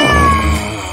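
Cat giving a single loud, close meow that starts bright and slides gradually lower over about a second, with no talk over it.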